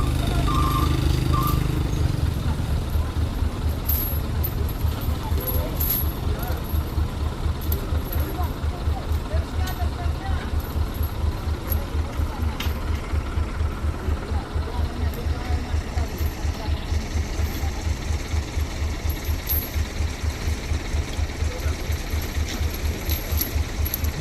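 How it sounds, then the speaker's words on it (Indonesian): Two trucks haul a third truck with a broken axle up a steep slope, their diesel engines labouring in a steady, rapidly pulsing drone that holds throughout, while faint voices come through early on. "ini akan dibantu tarik dengan 2 truk sekaligus di tanjakan ini ya"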